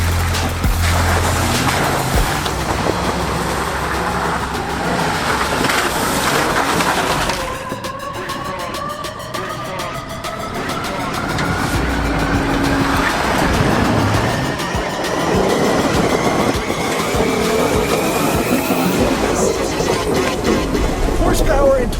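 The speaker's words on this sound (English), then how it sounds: "it is time to go into four-wheel drive and see just how good this lifted Wrangler is" Lifted Jeep Wrangler driving off-road in four-wheel drive up a high-elevation mountain trail, with a steady loud engine and drivetrain drone whose pitch climbs gradually, joined by rumbling and crunching from the terrain.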